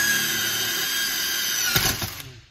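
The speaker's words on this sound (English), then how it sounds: "Come up with a drill." A power drill pre-drills a hole in steel, giving a brief high whine with a burst of grinding near the end as the bit cuts into the metal, close and fairly loud.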